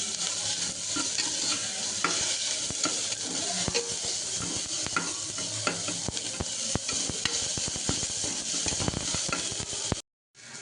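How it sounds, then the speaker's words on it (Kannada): Chopped onions frying in hot oil in a pan, a loud continuous sizzle and crackle heard close and steady, with occasional stirring scrapes, cutting off abruptly near the end. "ಈರುಳ್ಳಿ ಹಾಕ್ಕೊಂಡು ನೀಟಾಗಿ ಫ್ರೈ ಮಾಡ್ಕೊಳ್ಳೋಣ"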